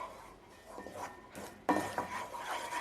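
Flour and butter stirred in a pan over a low flame: quiet scraping and rubbing of a spoon against the pan in short strokes, getting a little louder and rougher partway through, with no talk.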